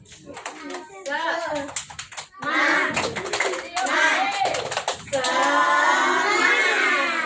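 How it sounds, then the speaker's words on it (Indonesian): Children in a classroom chant the tepuk semangat cheer together, voices rising in rhythm with sharp bursts of group hand claps, ending in a sustained shouted chant. "Sebelum mulai pelajaran kita tepuk semangat dulu ya."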